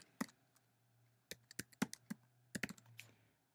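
Typing a web address on a computer keyboard: a few separate bursts of crisp key clicks, close and fairly quiet, with short pauses between groups of presses and no talking.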